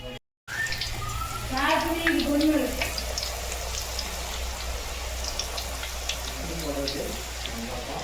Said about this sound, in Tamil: இந்த ஒத்தடுப்பு வச்சு இதோ வெளியில் கொண்டு வந்து சிப்ஸ் பொரிக்கிறதுக்கு ஸ்டார்ட் பண்ணிட்டோம்